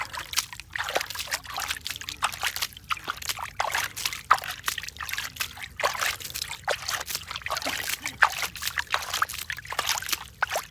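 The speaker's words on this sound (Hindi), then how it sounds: "इस तरह एक एक पौधे को पानी लगाएंगे अब" Water sloshes and splashes from a bucket onto chili plants in a garden bed, one plant after another, in close, uneven bursts of pouring and dribbling over several seconds.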